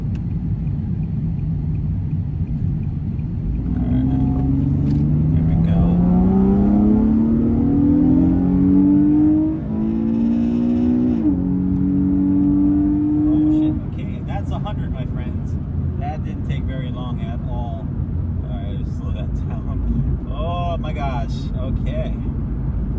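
A 2009 Nissan 370Z accelerates hard on the road, its engine note climbing through rising revs with a shift and another pull, heard from inside the cabin before easing back to a low drone under talk.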